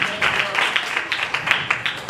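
An audience at a church gathering claps in a steady, rhythmic beat, loud and close, with no voices over it.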